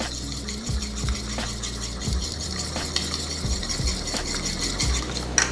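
Tapioca flour and egg batter for a crepioca being beaten by hand in a bowl, a steady repeated scraping and stirring rhythm with soft knocks of the utensil, close and moderately loud, no talking.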